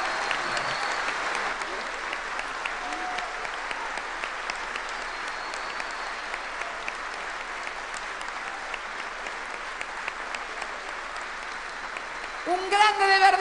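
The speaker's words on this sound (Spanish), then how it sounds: "Un gran aplauso para ese gran artista argentino" Sustained crowd applause in Argentina honoring the late artist Leonardo Favio, a steady dense roar of clapping that holds evenly for over ten seconds, with a voice rising briefly at the end.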